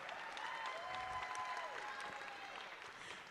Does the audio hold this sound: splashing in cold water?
no